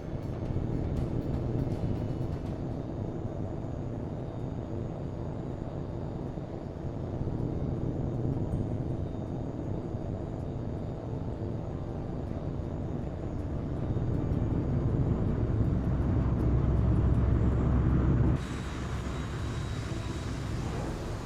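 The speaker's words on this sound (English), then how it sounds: "Clear for takeoff." Jet aircraft engine roaring steadily during takeoff in Tom Clancy's H.A.W.X. 2, a loud continuous rumble that swells toward the end, then drops abruptly to a quieter drone.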